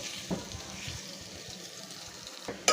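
Onions fry in oil in a pan until golden brown for palak gosht, a faint, steady sizzle with a few soft clicks and stirring sounds and no talking.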